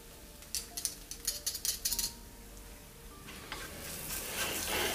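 Spiced carrots frying in a pan on low heat, a soft steady sizzle with a few sharp clinks of a utensil early on, then a louder crackling hiss building toward the end, no voices.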